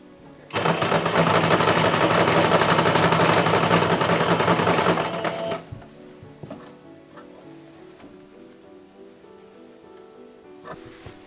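Sewing machine stitching French seams on an 1890s ladies' chemise, a loud steady whirring run of about five seconds, then stopping, followed by quieter light handling sounds.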